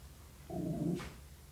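A dog indoors lets out one short whining growl, about half a second long and fairly close, followed by a soft breathy sound and quiet room tone.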